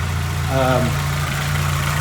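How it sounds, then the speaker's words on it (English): A Mk3 Volkswagen Jetta's engine, fitted with an aftermarket air intake, idles with a steady low hum and even rhythm, close by, while a person speaks briefly over it. "It's idling just fine. It's not hesitating."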